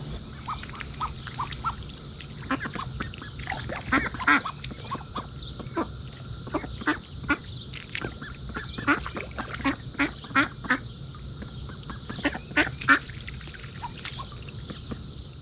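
Ducks quacking repeatedly in irregular bursts, moderately close, over a steady background hiss.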